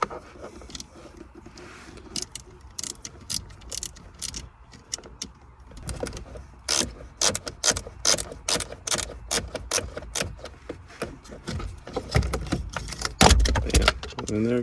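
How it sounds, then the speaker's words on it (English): A ratchet loosens bolts on a GD3 Honda Fit during a push-to-start installation: quiet fumbling at first, then rapid bursts of close, sharp clicking that grow louder toward the end. "let's loosen the bolts now"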